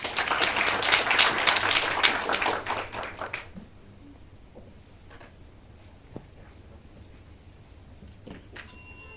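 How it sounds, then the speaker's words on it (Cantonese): An audience at a Hong Kong and Macau school debate contest claps warmly for about three seconds before the applause fades into a quiet, hushed hall with a few faint knocks. "好，掌聲鼓勵。"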